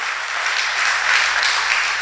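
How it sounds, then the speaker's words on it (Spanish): A church congregation bursts into strong, sustained applause during a worship service, a continuous wash of clapping held at an even level throughout. "dale un fuerte aplauso al Señor"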